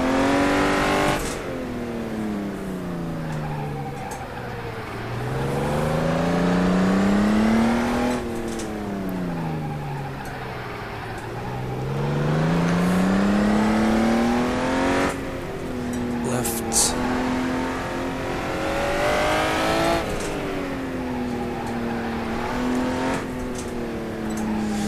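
Mid-engined Honda NSX driven around the Buckmore kart circuit, its engine note rising and falling through repeated revving sweeps as it accelerates out of corners and eases off, loud and close, with someone talking over it throughout.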